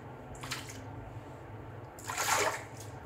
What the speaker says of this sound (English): I'm kind of like rinsing my hands after I've kind of put on here.